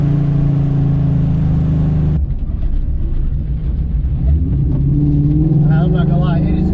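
A car pulls hard in a short, tightly geared first gear, its engine droning loud and close with a steady low growl that shifts character partway through, and a voice briefly talking near the end.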